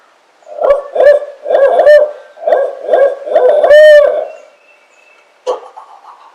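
A loud, near owl hoots in a rhythmic series of low calls, ending with a rising flurry, then a single fainter hoot after a pause, heard outdoors on a turkey hunt.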